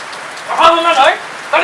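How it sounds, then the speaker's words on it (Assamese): Rain falls as a steady hiss in the background, with people speaking over it up close. "বৰষুণো পৰি আছে নহয়"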